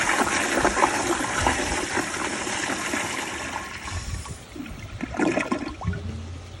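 A Kohler Kingston wall-mount toilet flushes with a loud, close rush of water that holds steady for several seconds, then eases into a gurgling refill trickle.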